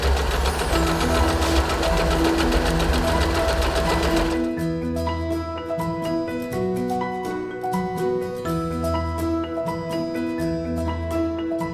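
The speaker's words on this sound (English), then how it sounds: "point the pattern selector at D and start stitching." A Usha Janome Empress sewing machine runs continuously while stitching stretch stitch patterns, its needle mechanism pounding in a fast, steady rhythm with a mechanical whir. It is close and loud, with no voices.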